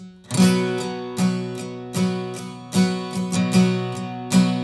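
Guitar strummed in steady down strokes accenting the main beats, several chords in a regular rhythm with sharp attacks, close and clear with no talking.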